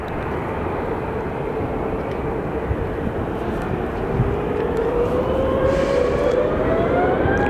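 A Frontier airliner at Phoenix Sky Harbor Airport roars steadily with broad engine noise, and a rising whine sweeps upward as the jet passes and grows slightly louder, with no talking.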